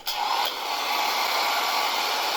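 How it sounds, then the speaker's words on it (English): A heat gun blows on chalk paint with a steady, close, loud whooshing roar, a brief knock at the start, running on unbroken with no talk. "I used my heat gun to just make sure I could dry it pretty good"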